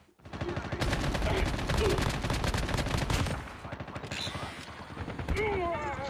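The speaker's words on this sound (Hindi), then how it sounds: "कोई स्नाइपर यूज कर रहा है।" Rapid gunfire from the shooter game Call of Duty Mobile, in battle royale mode, crackles in dense, loud bursts for several seconds, then thins out under faint game effects and some in-game voice.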